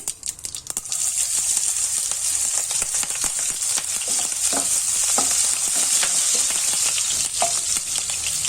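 Green chillies and mustard seeds sizzle in hot oil, a loud, steady crackling hiss that holds throughout with scattered sharp pops, close up and with no voices.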